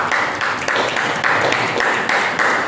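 A church congregation claps loudly during a healing service, a dense, steady wash of applause with rhythmic swells throughout, close and full with no voices standing out.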